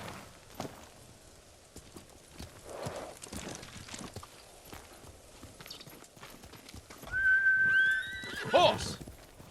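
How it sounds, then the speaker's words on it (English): A horse in the video game Ghost of Tsushima: hooves clop and footsteps run through the first part, then a loud, close whinny rings out near the end. "Horse!"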